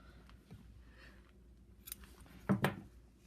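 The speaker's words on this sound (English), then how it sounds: "Scissors." Two quick scissor snips close up cutting crochet yarn, following soft faint handling noises in a quiet room.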